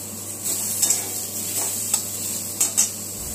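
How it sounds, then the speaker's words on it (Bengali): Raw mango pieces fry in oil with mustard seeds and a green chili for chutney, a light steady sizzle broken by several clinks and scrapes of a utensil against the pan. "তো প্রথমে সর্ষে ফোড়ন দিয়ে দিয়েছি, আর একটা কাঁচা লঙ্কা দিয়ে আমগুলোকে একটুখানি ভেজে নেব।"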